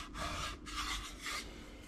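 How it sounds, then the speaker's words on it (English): Hand sanding on a fibreglass mould for a custom three-gauge centre pod for a Subaru SF5 and GC8, with steady rasping strokes in rhythmic back-and-forth passes, close and moderately loud. "sand this area down a bit"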